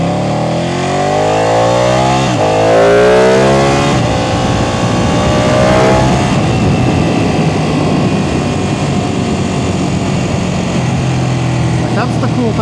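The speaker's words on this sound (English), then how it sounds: "it's just got a lot of character because of its thumpy V-twin" A Ducati 899 Panigale V-twin motorcycle engine running while riding, loud and close with rising revs early on, then a steady rumbling drone with wind noise underneath.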